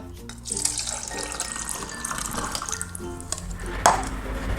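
Tap water runs steadily into a sink with splashing and dripping as tomatoes are rinsed underneath, plus a brief clatter near the end.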